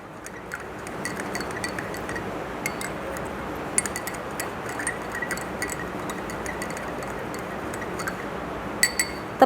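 A spoon stirring sugar in a glass of water makes rapid, light clinking and ticking taps against the glass, steady and close over a hissy background, with a brighter clink near the end.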